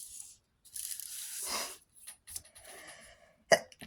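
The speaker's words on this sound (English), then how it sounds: "Excuse me, sneezing." A single sharp sneeze bursts out near the end after a few quieter breathy rustles.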